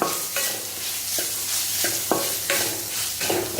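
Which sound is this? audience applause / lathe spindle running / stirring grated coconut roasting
stirring grated coconut roasting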